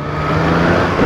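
Triumph Street Triple 765 R motorcycle engine droning steadily up close while riding through traffic, a loud continuous hum with wind noise and no voices.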